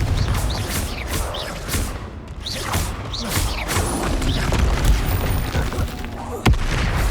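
Explosive Confringo spell blasts in the Hogwarts Legacy video game, several loud booms and crashes landing in quick succession within a dense, continuous battle din.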